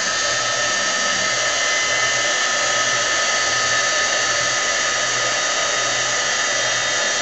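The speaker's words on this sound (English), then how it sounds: "we're going to use our heat tool to heat set the embossing powder" A craft heat tool blows steadily to melt and set embossing powder on a handmade card, giving a continuous loud whirring hiss with a faint pulsing hum underneath and no talk throughout.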